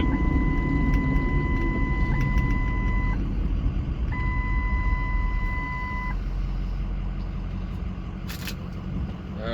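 A truck's warning chime sounds twice as a steady two-tone beep, each lasting a few seconds, over the constant rumble of the vehicle's engine and road noise inside the cab.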